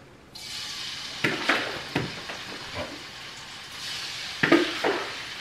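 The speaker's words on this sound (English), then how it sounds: "it's time to put this in the oil for the stir fry" Shrimp fried rice stir-frying in hot oil in a pan, a steady sizzle punctuated by several sharp scrapes and clanks of a utensil against the pan, close and alone with no talk.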